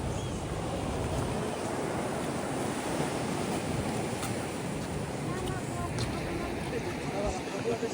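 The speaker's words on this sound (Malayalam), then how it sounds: "ഹാർബർ ഞാൻ ഫുള്ളായിട്ടൊന്ന് കാണിച്ചു തരാം കുറച്ച് വൈഡായിട്ട് കാണിച്ചു തരാം" Sea waves wash steadily at a fishing harbour, a continuous broad roar of surf mixed with wind buffeting the microphone, moderately loud with no clear breaks.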